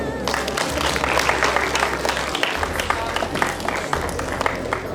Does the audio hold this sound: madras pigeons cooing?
no